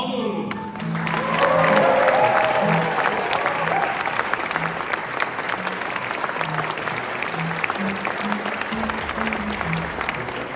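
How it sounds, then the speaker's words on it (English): Theatre audience at an HMS Pinafore performance applauding the naval chaplains, a steady wash of many hands that swells early and holds for about ten seconds, with a voice speaking briefly at the start. "Another round of applause for tonight's naval chaplains, Father Ryan and Father McDonald"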